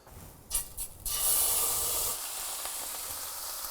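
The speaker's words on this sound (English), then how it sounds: "Nice hot frying pan on the go. Nice splurge of olive oil." A few short scraping rubs, then lamb hits a hot pan with olive oil and sizzles with a loud hiss that settles into a steady, softer frying sound.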